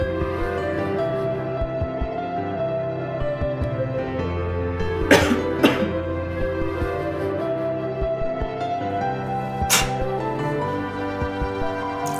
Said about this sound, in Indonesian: Apabila kita sedang batuk dan pilek